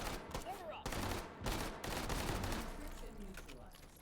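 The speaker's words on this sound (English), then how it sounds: "Something exploded there." Explosions and bursts of gunfire ring out in a competitive video game match, a quick run of sharp blasts heard under and between excited commentary.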